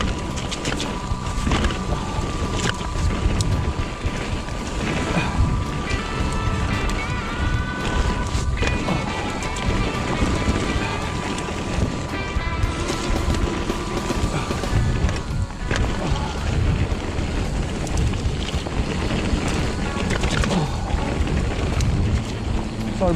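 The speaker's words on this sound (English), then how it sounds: "it is very windy" Strong wind blows through woodland at a Welsh bike park, a constant loud roar and buffeting on the microphone that runs unbroken throughout with no clear voices.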